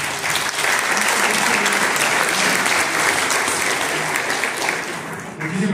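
Audience at an INE Morelos electoral event held at a university breaks into loud, dense applause that stays full and steady for several seconds before easing slightly at the close.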